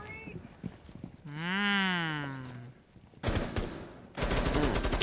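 Video game gunfire in Rainbow Six Siege: a harsh, dense burst of automatic shots near the end, preceded by an in-game tonal effect and clatter, loud and close with no talk over it.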